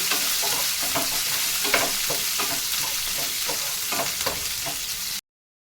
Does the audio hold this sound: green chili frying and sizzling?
yes